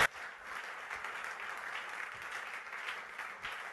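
A church congregation claps in sustained applause, a dense and even wash of hand claps that stays fairly steady throughout at moderate distance.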